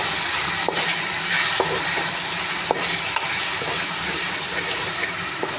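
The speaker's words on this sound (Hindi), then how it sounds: "2 मिनट इसको मैं फ्राई करूँगी चिकन को।" Chicken fries in a browned ginger, garlic and green chili paste. A steady close-up sizzle is broken by a few sharp clicks of stirring.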